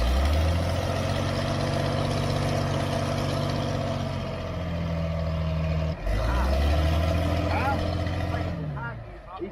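The diesel engine of an old motor grader runs with a loud, steady low rumble and shifting tone, dipping briefly before picking back up as people talk over it.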